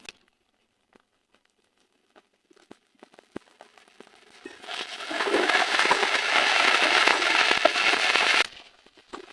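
Spices with chili powder and turmeric fry in a pan for a pointed gourd dish: scattered faint ticks give way to a steady crackling sizzle that swells for several seconds and then stops abruptly.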